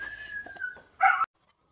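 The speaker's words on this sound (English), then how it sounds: "I had screaming dogs in the background and had to stop" Several dogs, a household with multiple dogs during a Wire-Haired Pointing Griffon puppy grooming session, give a high, drawn-out whine followed by a short burst of loud, close barking that cuts off abruptly.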